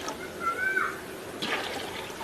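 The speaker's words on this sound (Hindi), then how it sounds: "पानी बॉईल करना है हमने" Water splashes briefly into a cooking pot for boiling rice for mutton biryani, a soft, short pour heard close up.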